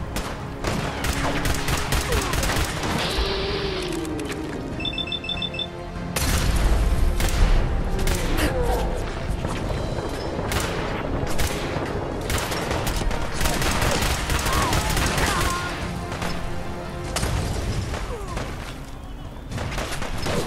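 Sustained gunfire in Fallout 4, with rapid bursts and scattered heavy booms crowding one another close and loud over about twenty seconds, alongside some in-game chatter.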